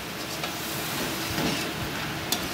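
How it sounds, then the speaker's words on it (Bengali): Fish curry masala (macher jhal) being stirred in a pan just after water is added, with soft, steady sizzling and faint scraping of the spoon, fairly quiet and without talk. "আমি এটাকে একটুখানি জল দিয়েছি, একটু নাড়িয়ে নেবেন"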